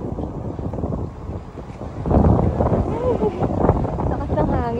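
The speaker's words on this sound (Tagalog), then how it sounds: "Lakas ng hangin, sarap." Strong wind buffets the microphone with low rumbling gusts that grow louder partway through, while a voice talks briefly underneath.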